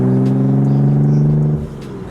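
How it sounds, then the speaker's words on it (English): A loud, deep engine of a Nissan 300ZX rumbles steadily up close, a throaty idle drone that eases off slightly near the end. "This car's really loud"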